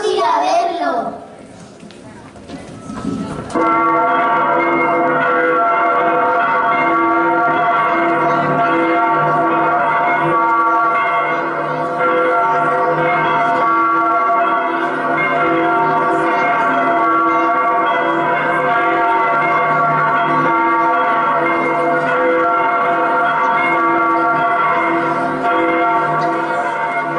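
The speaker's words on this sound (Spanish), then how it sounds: "Porque suenan las campanas" Church bells ring loudly and continuously, their layered metallic tones sustained throughout, after a brief opening with a voice and some movement.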